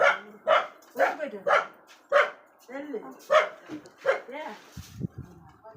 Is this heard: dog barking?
yes